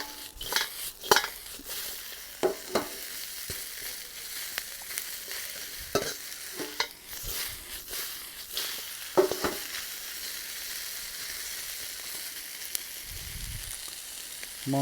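Chicken stir-fried in a wok with fresh carrots and peppers: a steady sizzle runs throughout, broken by sharp clanks and scrapes of the utensil against the pan, with no talking.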